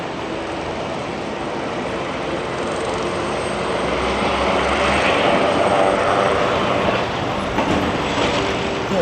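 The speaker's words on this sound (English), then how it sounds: "I think I hear an air ambulance taking off from the helipad atop St." An air ambulance helicopter lifts off from the rooftop helipad of St. Mike's Hospital, a loud, steady roar of rotor and engine noise that swells slightly midway, with no one talking.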